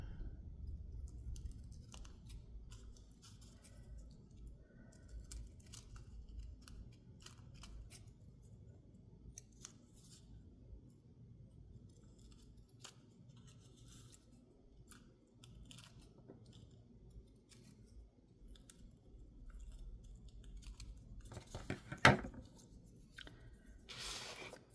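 Scissors snip around a paper ticket for a junk journal embellishment, faint intermittent cuts and paper rustles close by, with one sharper snip near the end.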